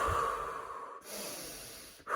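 Heavy, loud breaths during a breathing exercise, a long forceful exhale followed by another deep rush of air, close to the listener and alone without talk.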